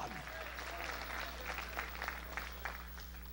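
Church congregation clapping hands during a lively Sunday evening service, a steady run of claps spread through a room with a constant low hum underneath.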